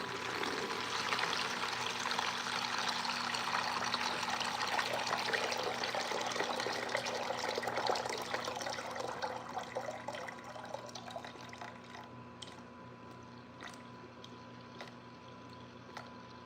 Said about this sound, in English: put it on clean, hit play, and we'll drain this thing out